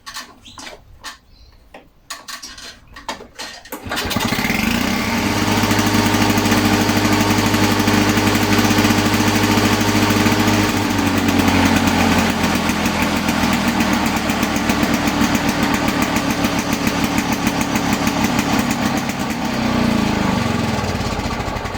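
A Victa LM G4 lawn mower engine starts after a few seconds of clattering handling noise, then runs steadily and loudly at a constant speed for the rest of the clip.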